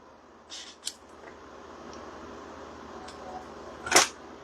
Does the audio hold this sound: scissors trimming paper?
yes